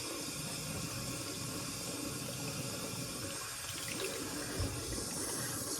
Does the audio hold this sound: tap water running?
yes